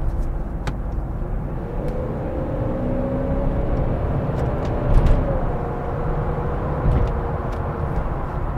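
A 1995 Mercedes S500 Coupe drives with a steady, close engine drone and low road rumble, rising slightly in pitch as it accelerates, with a couple of brief louder swells and no talking.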